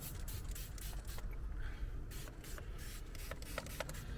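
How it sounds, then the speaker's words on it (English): Leak detection spray hisses onto the gas hose joints of a motorhome or caravan, a close, steady aerosol rush in several short bursts with small rubbing and clicking noises between them. "literally get your spray and just."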